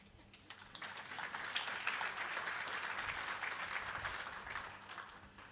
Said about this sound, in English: I would request this conference to clap for all the ladies who are here